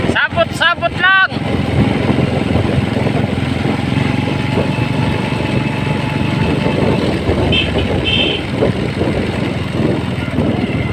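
A motorcycle engine runs at a steady idle-like putter throughout, close and continuous, with brief chatter at the start and faint voices over it.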